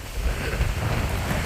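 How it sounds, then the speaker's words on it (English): Steady, blustery wind from approaching Hurricane Ian roars against the microphone with low rumbling buffets, loud and continuous throughout, with no voices. "It's definitely a lot more windy out the back."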